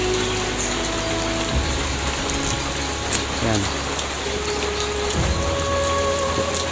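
Steady, dense rain pours down with a constant hiss during flooding in Vinzons, Camarines Norte, Philippines, a brief knock and a low rumble partway through, and a voice speaks a word.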